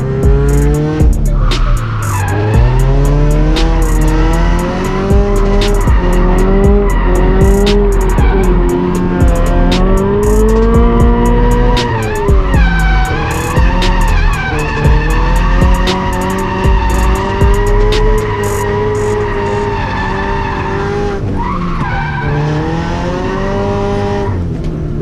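A drifting car running on its stock steering angle, loud and up close: tires skid and squeal continuously for about 25 seconds while the engine revs rise and fall in repeated surges, with no talk.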